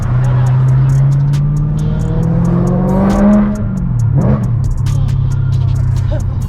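A BMW E92 M3 with a Bomiz piped exhaust pulls up, its V8 exhaust droning loud and steady close by, the pitch rising briefly midway before settling back to a low burble.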